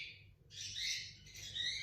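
Birds outside during a morning yoga session, a few high squawking chirps in quick succession, faint and somewhat distant over a quiet indoor background, no talk.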